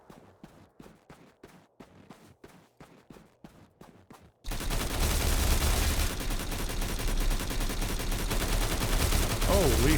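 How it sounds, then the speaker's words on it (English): AI enemies firing guns in the video game STALCRAFT: X: a run of sharp, evenly spaced single shots gives way to a loud, dense, continuous barrage of gunfire. "How are they even shooting at me?"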